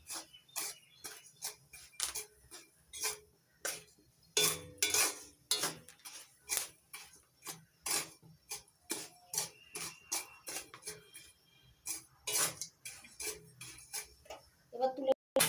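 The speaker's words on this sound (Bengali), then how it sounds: "ছোলাগুলো ফাটছে ফুটফাট করে।" Dry-roasting chickpeas crackle and pop in a pan with no oil or sand, dense sharp clicks and snaps coming in quick irregular bursts, close up. Talking can be heard faintly at times.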